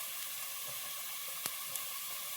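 Onions for biryani cook in a pan with a soft, even sizzle, and two brief clicks of a spoon stirring near the middle.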